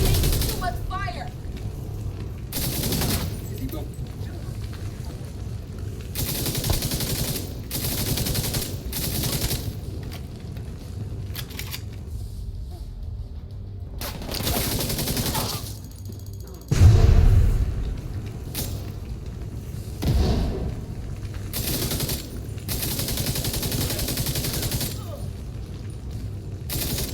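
Gunfire rings out during a firefight in The Division 2, coming in repeated loud bursts and volleys separated by brief lulls, with occasional heavier booms. Voices call out between and under the shots.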